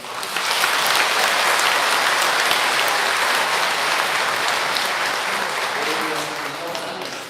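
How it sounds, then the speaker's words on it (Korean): A church congregation claps in welcome, steady dense applause from many hands filling the room throughout, fading slightly near the end. "자, 모든 분들을 위해서 환영의 박수 한번"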